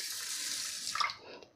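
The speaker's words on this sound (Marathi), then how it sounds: "स्वच्छ असा 2-3 पाण्याने धुवून घ्यायचा आहे" Basmati rice being washed in water in a large vessel, a quiet running, swishing water sound with a brief clink and splash near the end, no voices.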